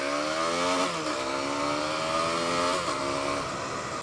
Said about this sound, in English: you have to really spool the engine up to get any grunt out of it